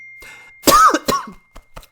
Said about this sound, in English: Bit of cough action there